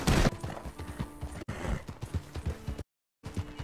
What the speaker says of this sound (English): You're the best horse around.